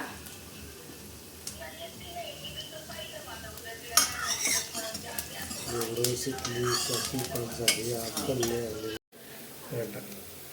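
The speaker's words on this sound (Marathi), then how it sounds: "हलवत राहायचं याने." Dudh shevbhaji cooking in a pan, stirred with a utensil: soft continuous sizzling with scraping and clinking of metal against the pan, close, while people talk over it.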